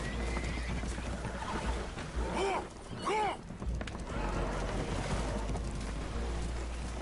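Spooked horses neigh in Red Dead Redemption II aboard a boat taking on water, two or three shrill whinnies rising over a low rumble of water and creaking, with brief speech nearby.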